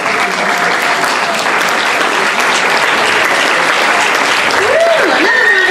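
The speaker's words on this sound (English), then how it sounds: "Another round of applause for the Bayard." Sustained loud applause from an audience at a senior awards ceremony, steady dense clapping throughout with a brief whoop or voice rising near the end.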